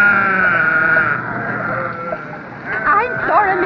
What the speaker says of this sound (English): will you stop the sheep from stuffing themselves in my grass?